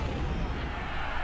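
Artillery fire in Ultimate General: Civil War at the Battle of Shiloh, a steady rumbling wash of distant cannon booms blending into one continuous low roar.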